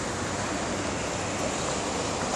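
Steady, even wash of sea surf at a beach in Fujairah on the Arabian Sea, a dense continuous roar with no distinct breaks, fairly quiet and unaccompanied by voices.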